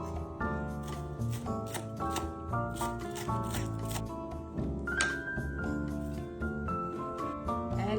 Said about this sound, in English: Scallion slice.